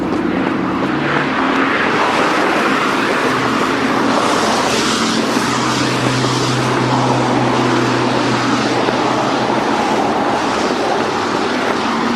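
Steady road traffic passes close by, a continuous broadband rumble with a low engine drone swelling and fading as vehicles go past, loud throughout with no talking.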